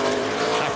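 Race car engine at the 2003 Subway 500 NASCAR race, revving up sharply as its tires spin and break traction coming off a corner; a loud, dense, continuous roar throughout.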